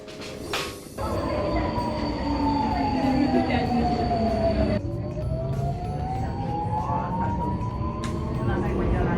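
A Budapest M2 metro train ride: a loud underground rumble with rising and falling motor whine, rattling wheels and a brief squeal, heard from inside the car.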